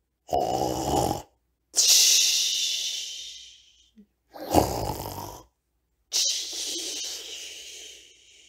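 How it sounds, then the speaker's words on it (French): A huge lion sleeping and snoring loudly, with deep rasping inhalations alternating with long airy hissing exhalations in a slow, regular rhythm, close and alone with silent pauses between breaths. "Un énorme lion qui dort maintenant en ronflant comme une cheminée."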